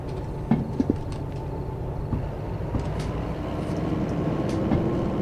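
A train rumbles steadily in the railway simulation game Derail Valley, a low continuous roll with a few sharp clanks near the start and growing slightly louder toward the end.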